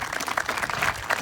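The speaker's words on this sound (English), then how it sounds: "so let's give him a round of applause" An audience at a flag pole dedication gives a brief, steady round of applause, a close, uniform patter of many hands clapping together.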